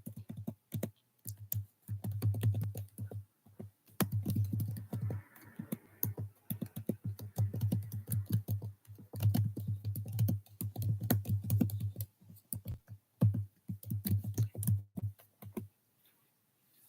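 Typing on a computer keyboard indoors, close rapid bursts of key clicks separated by short pauses.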